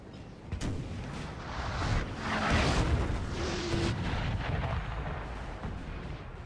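Cannon fire in Napoleon: Total War booms out in deep, rumbling blasts that overlap into a continuous heavy roar, loudest in the middle, with scattered crackling shots mixed in and no speech.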